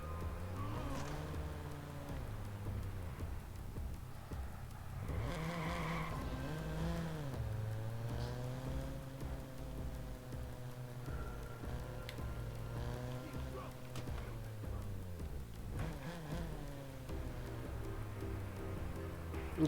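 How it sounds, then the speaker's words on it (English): Car driving in the video game Watch Dogs, a steady engine hum with rising and falling revs as the car steers and accelerates, heard alongside game sounds. "Trying to make my driving all nice and cinematic for y'all."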